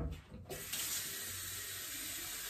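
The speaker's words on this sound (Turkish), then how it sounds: "Hemen sıcak su koyacağım." Hot water pouring steadily into a container at home, a soft continuous splashing stream after a brief quiet start, fairly faint and close, with no speech.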